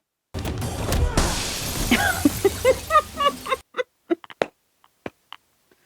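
Breakable prop glass panels shatter in a film fight scene: a loud crash opens a dense stretch of breaking, then scattered pieces tinkle and clatter to rest in several separate bursts.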